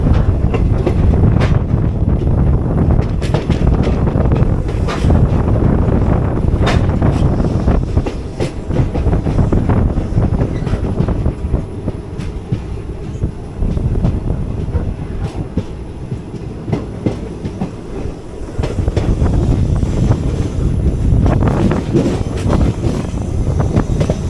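The 12677 Ernakulam Intercity Express rolls into Palakkad Junction, heard from on board as a loud continuous rumble with rhythmic clickety-clack over rail joints and a slight easing toward the end.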